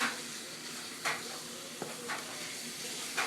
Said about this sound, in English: the first thing we want to do is brown our pound of hamburger